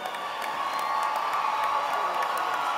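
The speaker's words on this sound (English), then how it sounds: "Let's have a big round of applause for our graduates." A crowd at a 2017 Platt College graduation ceremony cheers and shouts for the graduates, a loud, continuous roar of voices with a few faint claps mixed in.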